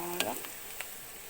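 Onions and garlic frying in oil give a brief, soft sizzle broken by a couple of small crackling pops.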